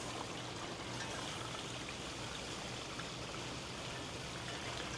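Water gushes steadily through an opened Valterra tank valve on an RV during a tank flush, a constant close rushing flow with no pauses.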